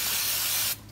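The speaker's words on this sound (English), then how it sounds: "spray a little brake cleaner" Brake cleaner sprayed from an aerosol can onto the front brake caliper of a 1994 Ford F-350 7.3 PowerStroke diesel during a brake job: a loud, steady, close hiss that cuts off abruptly near the end.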